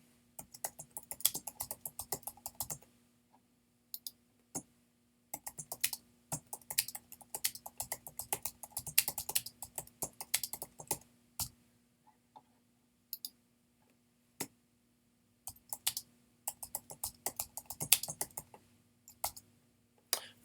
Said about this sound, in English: we're going to type in the name of the form, staff intentions